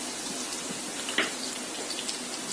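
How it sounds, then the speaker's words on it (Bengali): Half a cup of chopped onions sizzles in hot soybean oil, a soft steady crackle and spatter with one brief louder pop, faint and alone. "এখন আমি তেলের মধ্যে দিয়ে দিচ্ছি আধা কাপ পেঁয়াজ কুচি"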